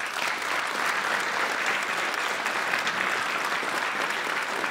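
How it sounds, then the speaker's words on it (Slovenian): A concert audience applauds for a Slovenian family folk music trio, dense sustained clapping from many hands at moderate distance, with no one speaking over it. "Dajmo en aplavz."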